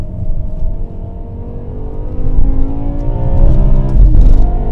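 A 2008 BMW M5 with a V10 and modified exhaust (primaries and secondaries removed, resonator kept, two fewer mufflers) accelerates hard in second gear, its loud, rising engine howl building steadily and swelling near the end.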